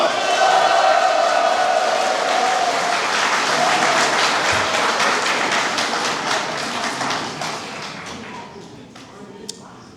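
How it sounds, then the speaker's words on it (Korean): An audience at a Daegu mayoral candidate's acceptance speech and press event applauds steadily, a dense wash of clapping that slowly fades toward the end. "또 박수 보내주시기 바랍니다"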